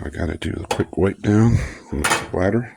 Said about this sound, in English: Sorry about the noise from the spoon tray.